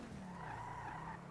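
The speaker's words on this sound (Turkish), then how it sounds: "bu araba kaymaya çok müsait ya" Tires of a sliding car in a role-play driving video game skid in a continuous faint screech with engine hum underneath, steady and unbroken.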